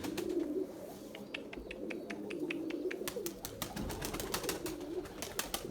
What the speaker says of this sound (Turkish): Bu yan kümesten getirdiğim kuş bu.